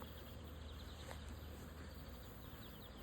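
Bees from an aggressive hive make a steady, faint buzzing hum that drones on without pause throughout.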